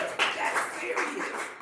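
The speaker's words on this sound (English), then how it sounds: "Clap it up for being good to yourself this year" Audience at a gathering clapping in uneven bursts, a moderate, somewhat sparse patter of hands with voices mixed in underneath.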